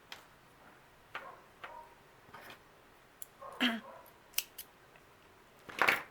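Scissors snip through excess polyester batting while a Waldorf-style doll head is being made, giving a handful of quiet, separate cuts scattered across a few seconds, close and crisp against a near-silent room.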